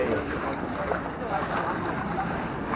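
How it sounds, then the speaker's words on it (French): Steady rushing water and wind noise, waves slapping past a moving boat in Venice, a continuous wash with no clear speech. "Oh, les vagues. Les vagues."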